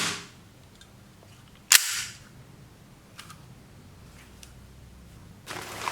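A secondhand gas-powered airsoft pistol fires one sharp, loud snapping shot, then a quiet stretch with faint clicks and a rush of noise near the end; no one speaks.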